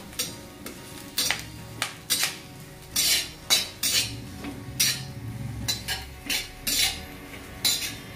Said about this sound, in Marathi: याला एकदम बारीक गॅसवर आपल्याला असं हलवून घ्यायचा